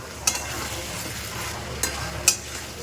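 Prawns for a curd prawn curry sizzle in a pan while being stirred, a steady low frying hiss broken by a few sharp scraping clicks from the spoon.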